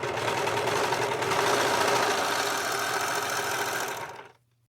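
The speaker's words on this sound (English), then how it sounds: "I decided what I'm going to do is just serge that down the side right there" A serger machine runs steadily, stitching along the fabric edge of a pillow sham with a continuous fast mechanical whir, close and loud, then stops abruptly near the end.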